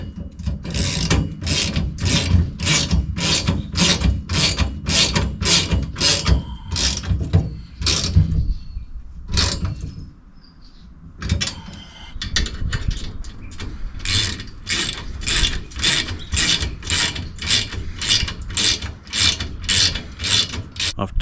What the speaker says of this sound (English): Then I'm going to tighten everything up so nothing moves.